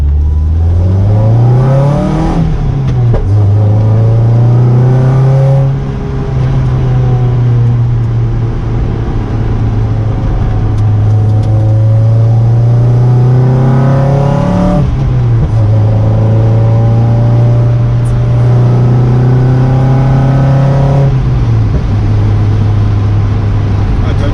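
A Lotus sports car weighing about 700 kg accelerating on the road, its engine rising in pitch through repeated revs and gear changes, loud and close from inside the cabin, with occasional talk over it.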